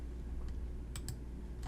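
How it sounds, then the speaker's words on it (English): A few quick keystrokes on a computer keyboard click faintly over a steady low hum while a citation search is typed, sparse and close with no talk. "start typing either the title or the author of the source you'd like to cite"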